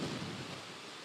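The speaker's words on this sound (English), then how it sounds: "We are continuing to see those waves really just push onshore, and we're getting some pretty significant gusts every now and then." Ocean waves push onshore during Hurricane Eta off Sanibel Island and Fort Myers Beach, with wind gusts making a steady loud roar and rumble that covers the whole short stretch, with no voices.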